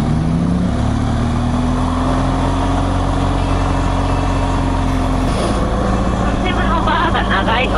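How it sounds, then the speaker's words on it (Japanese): A BMW boxer motorcycle engine idles with a low, throbbing pulse under a voice. The sound stays close and steady, and the pitch shifts slightly partway through. "アイドリングはそんなに低いわけじゃないんだけど、結構こうどこどこ来るよね。"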